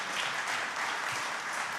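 Audience at a tech conference session applauding the presenting team, a brief dense burst of steady clapping filling the room.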